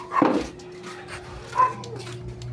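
A dog gives a sharp yelp and a couple of whimpering cries as it is being choked, with faint background noise and a steady low hum.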